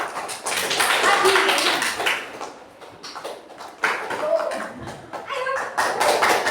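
A classroom group claps their hands together, with bursts of uneven clapping that dip and return, mixed with children's chatter and calls.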